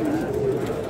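Pigeons coo in a low, steady murmur close by, with bird voices overlapping through the second and a person talking underneath.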